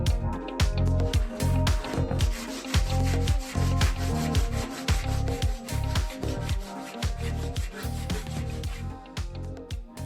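Steady back-and-forth rasping strokes of a hand saw cutting through wood, close and loud, in a continuous regular rhythm.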